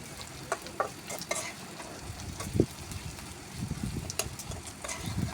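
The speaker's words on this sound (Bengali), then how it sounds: "মরিচ ও রসুন ছেড়ে দেব। এখন অনবরত নেড়ে চেড়ে ভেজে নেব" Chillies, garlic and onion sizzle in hot oil in a pan while a spoon stirs them constantly. Steady frying crackle runs under scattered scraping and clinking strokes, close by with no talking.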